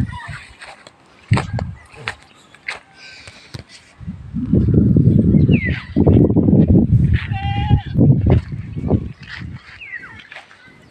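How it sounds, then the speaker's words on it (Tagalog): Goats on a farm in the Ilocos Sur province bleat close by with loud, drawn-out calls, mixed with other farmyard noise and a few bird calls while people talk nearby. "Ito yung kambing natin."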